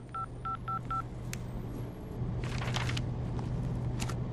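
A quick run of four short dialing beeps, evenly spaced, then a single tone and a low steady hum with faint rustling and clicks.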